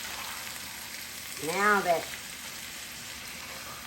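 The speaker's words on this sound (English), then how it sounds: "now it's frying." Squash frying in bacon grease on a home stove, a steady close sizzle running the whole time while a voice speaks briefly over it.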